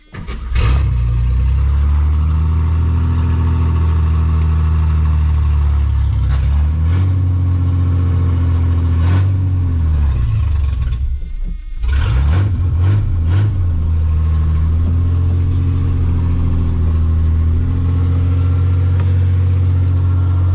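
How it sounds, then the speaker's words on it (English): An old Ford Mustang V8, after sitting for 32 years, runs with a loud, deep, uneven rumble right up close. It stumbles and nearly dies midway, then catches again and revs before settling back to a rough idle. "All right, ignition, couple of pumps, fire in the hole."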